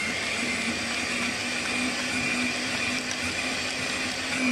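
A boring machine cuts metal dry, without oil, while reboring the boom of a JCB 3CX backhoe. It makes a steady, close grinding drone with a constant hum that continues unbroken throughout.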